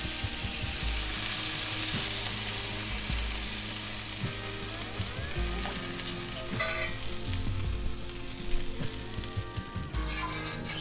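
Birria consommé sizzles on cheese tacos frying on a griddle, a steady loud crackle with occasional sharper spatters and a few scraping stir sounds partway through.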